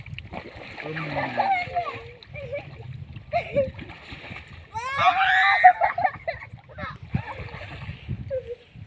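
Children playing in water, with intermittent splashes and sloshing, excited shouts and squeals, and people talking and calling out throughout, close by.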